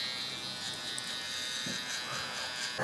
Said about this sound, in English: I'm gonna follow that up with the shaver.